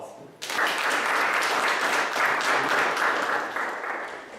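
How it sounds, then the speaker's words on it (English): Audience applause for a CEO guest speaker at a university talk on Bitcoin, bursting in abruptly after a brief quiet moment and holding as steady, dense clapping from a hall crowd before gradually tapering. "Please give him a round of applause."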